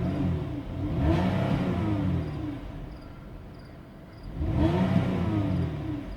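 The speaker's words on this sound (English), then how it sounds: "I'm gonna give it a little rev here so you can hear what the engine sounds like." A 2010 GMC Acadia SLE AWD engine is revved twice while parked, each rev rising steadily to a loud, smooth roar before falling back to idle, close by and with no talk.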